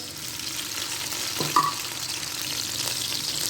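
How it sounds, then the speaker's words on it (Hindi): Onion frying in hot cooking oil for white Kabuli chana pulao hisses in a steady, close sizzle, with a brief clatter partway through. "तेल गर्म हो चुका है, अब इसमें शामिल कर देंगे प्याज"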